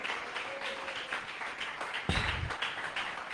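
Church congregation applauding during a sermon, a sustained wash of clapping from a crowd at moderate distance with a brief louder thump partway through.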